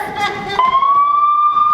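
Ambulance siren in a theatre scene, a single rising electronic wail that holds a steady high tone for about a second before cutting off abruptly, loud and close over faint background murmur.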